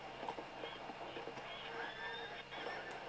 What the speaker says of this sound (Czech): další divoký koně